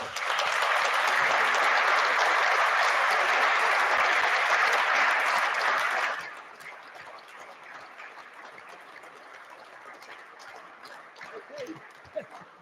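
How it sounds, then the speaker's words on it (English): An audience at a five-year anniversary celebration for a school alliance gives dense, loud applause for about six seconds, then it drops away to quiet room noise with a few scattered sounds. "give yourselves a round of applause"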